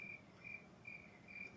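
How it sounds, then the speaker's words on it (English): Crickets chirp outside a shop, a faint, steady pulsing trill repeating in short even bursts against a quiet background. "I do still have crickets out there"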